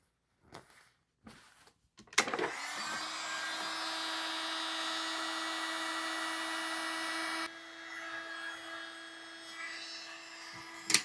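Power sander working a turned wooden bowl, a steady high whine starting after a few light knocks and running continuously, then dropping slightly in level near the end.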